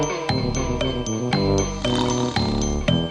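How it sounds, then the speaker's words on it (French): Cartoon emergency bell ringing in repeated bright chimes over a busy musical backdrop, loud and steady throughout the short stretch. "Appelons-le sur la sonnette d'urgence."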